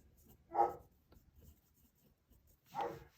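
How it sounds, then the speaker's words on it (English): A pet dog barks indoors, two short muffled woofs about two seconds apart, fairly faint against a quiet room. "I don't know if you hear my dog, I apologize. He likes to, you know, guard the world."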